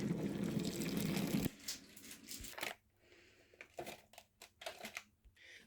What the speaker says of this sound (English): And now I have to add in 285 ml of cold water